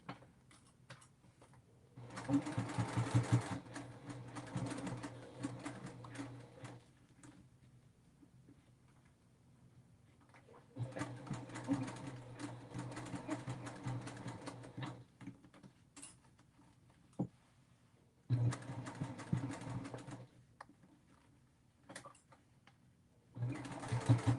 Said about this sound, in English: I'm using my seam guide for my 1/4 inch seam